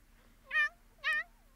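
A cat in the Sims 4 life simulation game gives two clear, bright meows about half a second apart, close and alone with no talk.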